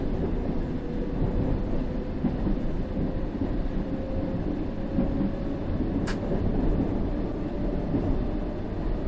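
A London Underground train in a simulator game runs smoothly toward Great Portland Street at about 40 mph, a steady low rumble and rail hum with a faint hiss and one brief sharp click.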